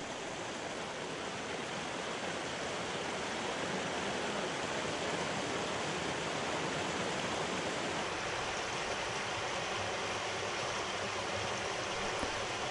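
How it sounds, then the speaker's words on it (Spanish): Abundant stream water murmurs and rushes steadily in the Curueño river valley, a constant, even wash of flowing water with no voices. "Por todas partes se escucha el murmullo del agua,"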